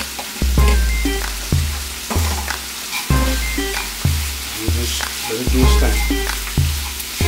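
Green onions and bell peppers sauté in hot olive oil, a loud continuous sizzle with rhythmic scraping and clanking strokes against the pan roughly every second, close up, with a brief spoken remark over it.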